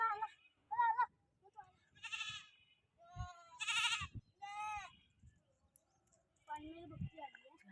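A human voice imitates a goat's bleat, calling a young kid toward its mother: several nasal, wavering bleat-like calls in short bursts, close and fairly loud, with pauses between them and some talking.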